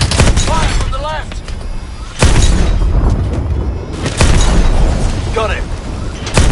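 Heavy tank cannon blasts in Call of Duty Advanced Warfare, two booming shots about two seconds apart under continuous battlefield noise and combat chatter.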